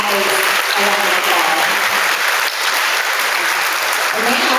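Loud applause at a fourth grade awards day honors the FitnessGram top athletes, a dense, continuous clapping crowd in a school gathering with voices and a faint tone audible underneath.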